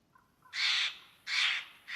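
A crow in the DayZ survival game gives two loud, harsh caws close by, then a third that cuts off at the end, with quiet pauses between them.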